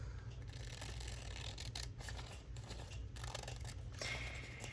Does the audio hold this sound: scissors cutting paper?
yes